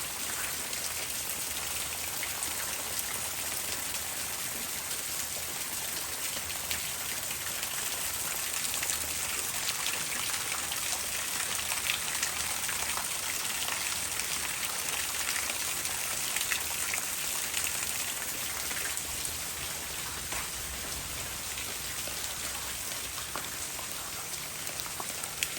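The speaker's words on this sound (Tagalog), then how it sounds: "Malakas ang ulan." Heavy rain pours steadily outdoors around a flower garden, a dense, even hiss of drops hitting surfaces that keeps up without a break, fairly loud and close, with no talking.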